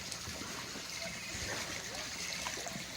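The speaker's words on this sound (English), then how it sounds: "here's the water coming out of the solar pump" Water pours steadily from a solar pump hose, a constant hissing splash close by, with faint voices in the background.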